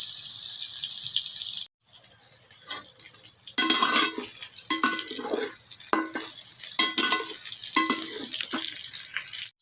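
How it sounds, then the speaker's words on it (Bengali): Soya chunks fry in mustard oil with salt and turmeric, a steady close hiss broken by a brief pause and then repeated bursts of scraping and stirring against the pan. "সয়াবিনগুলোকে আমি ভেজে নেব।"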